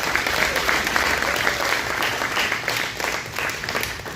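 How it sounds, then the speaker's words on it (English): An audience at a community club candidates' introduction claps loudly and continuously, a thick wash of hand claps with no pauses, fairly close and full. "Can we give them all a big hand"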